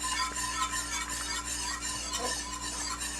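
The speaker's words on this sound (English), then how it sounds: "I'm adding the Parmesan. And we're going to keep stirring that." A spoon stirring grated Parmesan into a simmering cream sauce in a pan, soft scraping and rubbing strokes over a faint sizzle and steady low hum, close and quiet with no talking.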